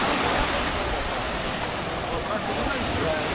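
Surf at Padang Padang Beach in Bali, Indonesia, roars as a loud, steady wash of breaking waves close by with no clear pauses.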